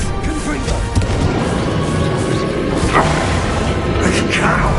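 A Confringo fire spell blast in the Hogwarts Legacy video game, loud booming impacts layered over continuous battle noise and shouted voices, with heavier hits near the start and around the middle.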